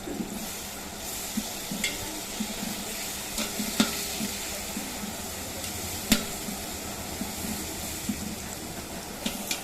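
Biryani simmering in a pot as it is stirred, giving a continuous bubbling sizzle with periodic scraping knocks of the spoon against the pot, close and steady, with no talking.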